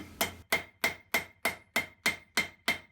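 A ball peen hammer strikes metal being forged into a spork, nine sharp ringing blows at an even, steady rhythm, each with a brief metallic ring, close and alone.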